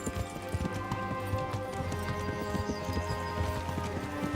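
Hooves of a galloping horse in Kingdom Come: Deliverance beat in a fast, steady clip-clop rhythm, loud and close, with a faint whinny and a low droning game score underneath.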